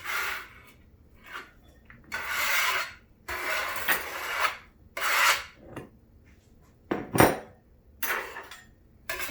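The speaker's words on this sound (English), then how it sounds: "once you have that all separated on your cutting board, scrape it into your large bowl" Chopped corn kernels are scraped off a cutting board into a large bowl in a series of irregular, close rasping strokes, each a short, gritty scrape separated by brief pauses.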